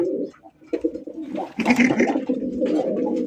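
Racer pigeon cooing close by, a series of low throaty coos with a louder burst near the middle, mixed with rustling and faint background noise.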